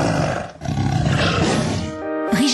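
Pet tigers kept at a private home in France roar loudly and continuously at close range, a deep rumbling growl that fills the whole stretch with no talking.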